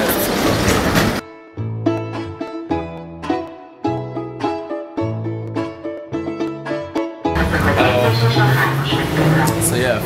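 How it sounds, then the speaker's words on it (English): A Budapest metro train runs loudly on its rails, a steady rumble giving way to a long run of sharp rhythmic clanks and tonal whines before the roar rises again. "Oh, this is an awful metro."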